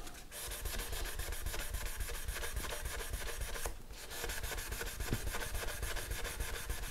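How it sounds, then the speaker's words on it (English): Guitar frets on an ES-335 build being burnished with a 3000 grit Trizact pad, a steady rapid back-and-forth rubbing close up, continuous and even with one brief pause midway. "I've got a 3000 grit Trizact pad, and I'm just going to burnish everything up with that."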